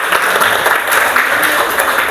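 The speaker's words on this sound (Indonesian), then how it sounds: "Kasih tepuk tangan dulu." Loud, dense audience clapping fills the whole stretch at a steady level, a classroom-style group applauding together with no talk on top.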